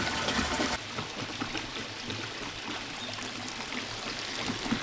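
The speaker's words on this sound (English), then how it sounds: "the extra water is going to be coming out the top here pretty quick" Water spilling over the top of a barrel in a micro hydro power setup, a steady rushing pour with a louder splash at the start, continuous and close.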